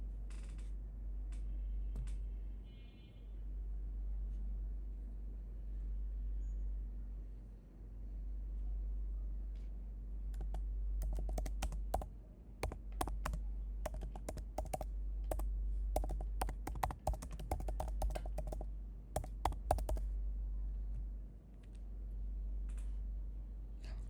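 Keys on a computer keyboard are typed in short bursts of sharp clicks, sparse at first and then denser in the middle, quiet and close over a low electrical hum, with no talking.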